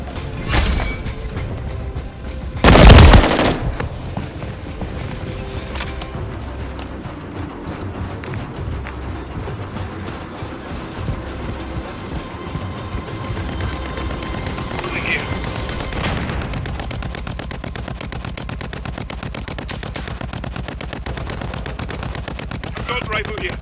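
Gunfire rings out in the video game Call of Duty: Modern Warfare III, with a loud burst early on and then continued shots and game sounds, while voices call out over the action.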